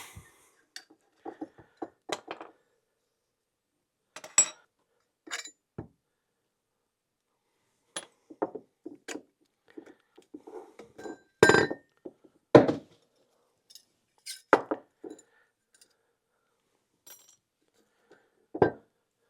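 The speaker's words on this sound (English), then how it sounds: "you can open up this bottom bushing and get that off of the fork" Metal parts clink and tap sharply as a bushing is worked off a YZ450F motorcycle fork with a screwdriver, with scattered brief knocks separated by quiet gaps.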